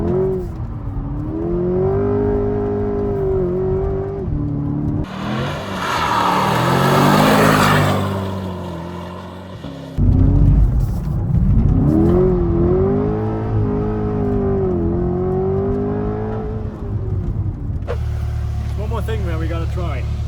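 A Chevrolet Corvette C8 engine revs hard while drifting, its loud, close tone rising and falling in repeated sweeps with brief breaks between bursts.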